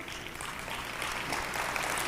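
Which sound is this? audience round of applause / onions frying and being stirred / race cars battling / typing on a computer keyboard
audience round of applause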